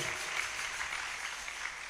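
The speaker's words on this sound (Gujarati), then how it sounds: "એક જોરદાર તાળીઓથી આપણે એમને સન્માનીએ, એમને બિરદાવીએ." An audience at a Guru Purnima gathering applauds a singer, a steady even wash of clapping, moderately distant and fairly soft, with no voices.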